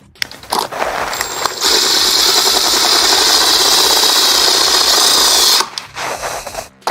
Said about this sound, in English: I'm gonna screw right into that spot right there.